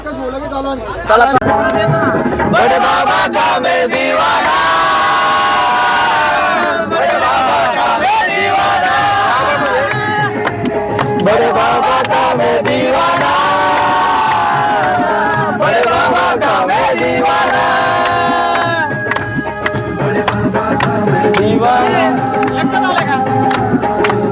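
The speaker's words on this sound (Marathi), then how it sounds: "खूपच गर्दी झालेली आहे" A large, dense festival crowd fills the Machhindranath Chandan Lep ceremony with loud, continuous chatter, shouted cries and chanting voices, rising and falling in waves with no pause.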